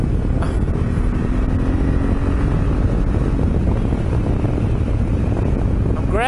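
A Honda Africa Twin DCT motorcycle on the move, its engine a steady, loud drone heavily buffeted by wind rushing over the rider's microphone.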